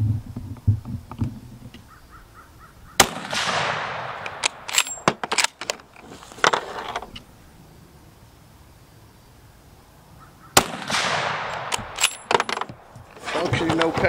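Loud sharp rifle reports from a new Christensen Arms Mesa in 300 PRC, two separated shots with echoing tails and scattered clicks and handling noises between them, outdoors.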